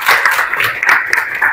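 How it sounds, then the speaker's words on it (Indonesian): Students in a classroom clapping hands together in a quick rhythmic pattern, several bursts of group claps close and fairly loud over a short span. "tepuk tangan dulu"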